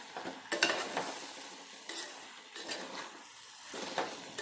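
Spiced masale bhaat rice with fresh pigeon peas stirred in a pot, close scraping and stirring strokes in uneven bursts with a faint sizzle underneath.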